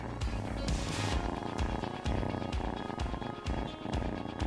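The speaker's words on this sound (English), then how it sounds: "Purrs can be used to communicate." A domestic cat purrs in a low, rumbling, rapidly pulsing drone that throbs steadily, close and continuous with no voices.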